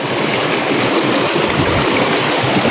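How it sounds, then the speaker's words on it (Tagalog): Waterfall at a hidden forest spot in Mindanao, a steady, loud broadband rush of falling water that fills the whole stretch without pause, heard close up and alone. "Dadaan na naman tayo dito sa falls."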